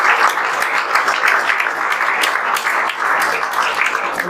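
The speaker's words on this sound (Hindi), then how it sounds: "इनके लिए जोरदार तालियां बजा" Loud, dense audience clapping at a JEE Main 2024 results celebration, welcoming a top-ranked student, continuous and even throughout with no talking over it.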